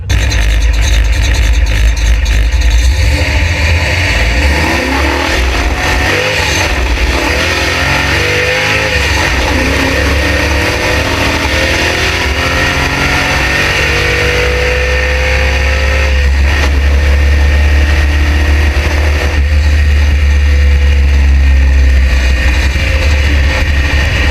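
A small-block Chevy V8 with Vortec heads runs loud and close in a car, a steady heavy engine roar with shifting revs and some rough, uneven character throughout, no voices heard.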